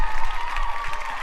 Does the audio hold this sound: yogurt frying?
no